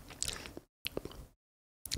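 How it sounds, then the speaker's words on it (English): Someone close to the microphone bites and chews crunchy kettle chips in short bursts, with pauses of silence between the crunches. "These chips are crunchy."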